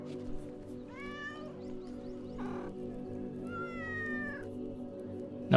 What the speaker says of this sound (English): Nope, not touching the cat at all because it might be disease.